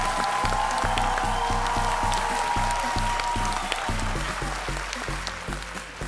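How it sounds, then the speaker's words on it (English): A studio audience on a challenge show applauds the winning challengers, with steady clapping over a rhythmic thumping beat of music that continues throughout. "Round of applause for them."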